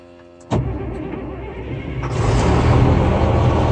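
A CAT 535C grapple wheel skidder's engine cranks with a sudden loud burst, then catches and settles into a rising, steady diesel rumble, close by and with no talking.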